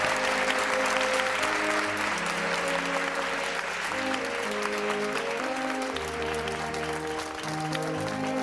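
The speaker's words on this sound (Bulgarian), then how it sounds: "Аплодисменти" Television concert audience applauding after a performance, a full, sustained roar of clapping heard under and alongside continuing music with sustained instrumental tones.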